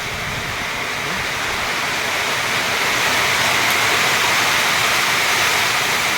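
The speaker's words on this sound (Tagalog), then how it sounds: "Maladilog yung ulan mga kabukal" Heavy rain pours down in a dense, unbroken roar that stays loud and steady throughout, with no voices.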